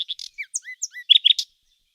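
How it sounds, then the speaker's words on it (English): A songbird sings a short, clear phrase of quick whistled and chirped notes, crisp and close, ending in a rapid trill and then silence. "said the nightingale, and began to sing most delightfully."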